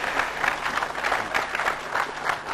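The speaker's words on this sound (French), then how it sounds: "j'espérais que vous applaudirez pour ceux qui ont accepté" Steady applause fills a presidential press conference in Congo, with President Félix and Patrick Muyaya facing the press, as a room of reporters claps continuously and evenly at moderate volume with no voices over it.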